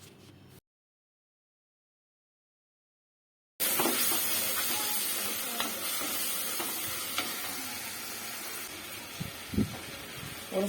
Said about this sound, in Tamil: இப்போ தக்காளி சேர்த்து நல்லா வதக்கிடுங்க.